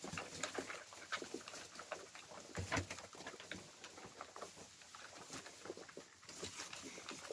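Iranian fighting pigeons shuffle and flutter in a winter loft, with scattered soft wingbeats, scuffles and faint cooing, fairly quiet and close.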